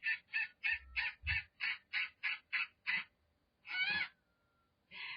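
A Steller's sea eagle calls in a rapid series of about ten short, evenly spaced yelping notes, then goes quiet before one longer harsh note and the start of another. The calls are clear, fairly close and alone, with no talk.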